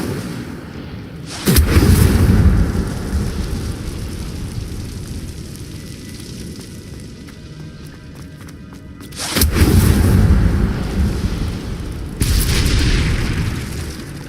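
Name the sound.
Incendio fire spell blasts in video game Hogwarts Legacy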